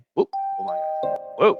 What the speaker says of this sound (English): Yeah, that was a doorbell.